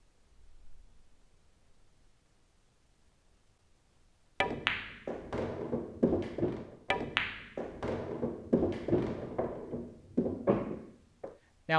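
Pool cue striking the cue ball into an object ball on a straight-in shot toward the pocket: near silence, then sharp close clacks and knocks of balls colliding, with a run of lighter taps and thuds after.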